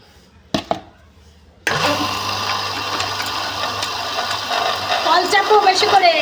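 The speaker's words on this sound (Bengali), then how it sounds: "এই দেখো মোটরের আওয়াজ কিন্তু চেঞ্জ হয়ে যাচ্ছে" Electric water pump motor drawing water from a hand-pump tube well, starting abruptly with a loud, steady whirring drone that roughens and shifts in pitch as it runs, preceded by a couple of sharp knocks.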